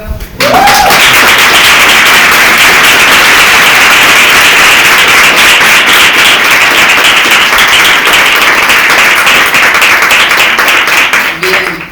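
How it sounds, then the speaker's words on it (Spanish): An audience at a talk claps in sustained, dense applause for about twelve seconds, loud and steady from start to finish, with a brief voice at the very beginning and end. "Damos un aplauso."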